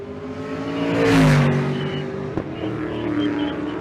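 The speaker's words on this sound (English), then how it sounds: "And the big Ford in the right lane. Spinning the tires." A big Ford drag car spins its tires in the right lane at a drag-and-drive event: a loud engine roar that swells and fades within a couple of seconds, then a rougher, sustained tire-and-exhaust noise nearby.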